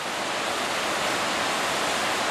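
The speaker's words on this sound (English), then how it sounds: "Show you the massive little waterfall I'm standing in front of." Waterfall on the Gunnison River below Curecanti Dam in the Black Canyon, a dense, constant roar of falling water, loud and close with no other sounds.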